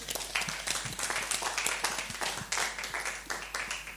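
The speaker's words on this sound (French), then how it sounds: "je repasse la parole à Cécilia, sous applaudissements, s'il vous plaît" Seminar audience on school buildings in French Guiana applauding, a modest group whose distinct individual claps form an uneven, moderately quiet patter lasting several seconds.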